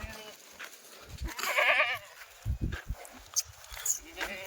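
Kathiawari goats bleating among livestock, with a few wavering bleats rising over people talking and some shuffling movement nearby.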